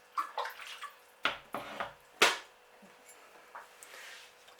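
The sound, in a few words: pouring water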